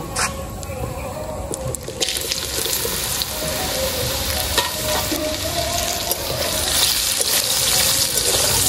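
Boiled potato and taro pieces dropped into hot oil seasoned with bay leaf, dried red chilli and cumin set off a loud, dense, continuous sizzle that swells slightly toward the end, with faint stirring.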